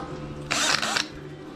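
A worn-out power drill, failing after about two years of heavy use in an off-road fabrication shop, whirs loudly in one short burst of roughly half a second, with a brief dip midway, then stops.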